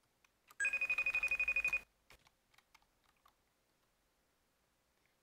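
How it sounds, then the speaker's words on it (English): A telephone rings in a fast electronic trill, one burst of about a second, loud and close, followed by scattered quiet clicks and taps. "Why does it keep ringing?"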